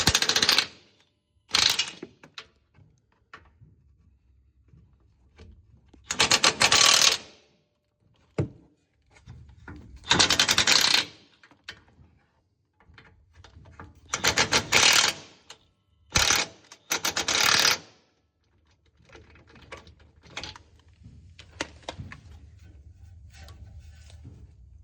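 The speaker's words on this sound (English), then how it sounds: "we will go ahead and loosen up the sway bar brackets just a little bit" Sway bar bracket bolts on a 2015-2022 Chevy Colorado front suspension are loosened with a ratcheting tool, giving several separate bursts of rapid mechanical clicking with quiet pauses between them, close to the listener.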